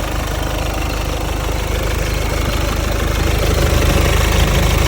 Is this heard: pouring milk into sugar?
no